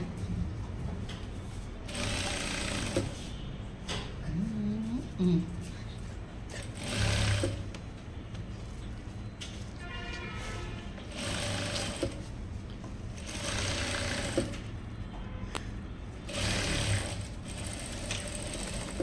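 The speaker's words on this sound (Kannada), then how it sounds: "ಓಕೆ, ನಾನು ಸಿಂಗಲ್ ಸ್ಟಿಚ್ ನಿಮ್ಗೆ ಹಾಕಿ ತೋರಿಸ್ತೀನಿ, ಆಮೇಲೆ ನಾನು ಡಬಲ್ ಸ್ಟಿಚ್ ಹಾಕ್ಕೊಳ್ತೀನಿ." Sewing machine running in several bursts while stitching a single seam on a lehenga, the steady whirring motor pausing between runs, close and loud, with some talk in between.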